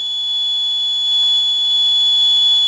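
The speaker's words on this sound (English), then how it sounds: "to turn off the alarm, the user would have to click this button with the correct password" A home security alarm from a LabVIEW smart home demo sounds as a loud, steady electronic tone, unbroken throughout, with no voices.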